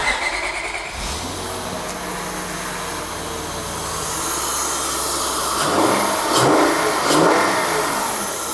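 A Honda Pilot with 200K miles cranks and catches, then settles into a steady idle that rises somewhat, with a few hissy bursts and revs near the end, heard close up without talk.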